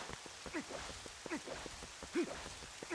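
Rain falling in the video game Zelda Twilight Princess, a faint soft patter under several short, repeated game tones and effects that recur roughly every three-quarters of a second.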